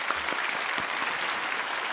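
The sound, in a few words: congregation applauding volunteers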